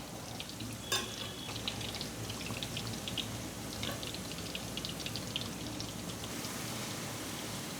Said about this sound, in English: you're frying, the oil has to be medium heat.